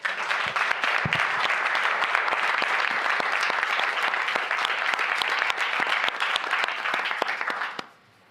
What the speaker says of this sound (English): Like thunderous applause.